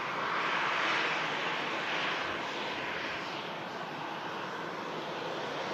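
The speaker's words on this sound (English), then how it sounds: "Ryanair 737 vacating there." A Ryanair Boeing 737 jet at Manchester Airport roars in a broad, steady engine rush heard from a distance outdoors, loud and sustained throughout with no voices.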